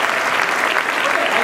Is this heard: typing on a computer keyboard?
no